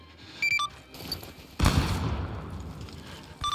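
In a World War II video game set in Tunisia, a sharp grenade explosion bursts midway and rumbles off into a fading roar, framed by short beeping tones and distant gunfire.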